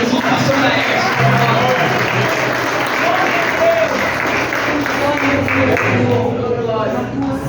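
Congregation applauding during an evangelical church service, a steady loud wash of clapping across the whole stretch with voices mixed in underneath.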